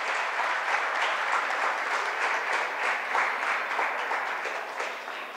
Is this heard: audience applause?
yes